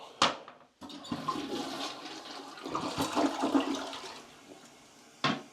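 A toilet in a resort suite bathroom flushes nearby with a sharp clunk of the handle, then a rushing swirl of water that gradually tapers off.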